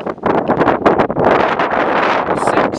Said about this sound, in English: It's pretty much wind up here.